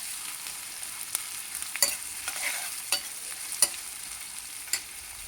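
Onions softening in a pan over a quiet steady frying hiss, with a few sharp clinks and scrapes of a spoon stirring them, heard alone with no talk.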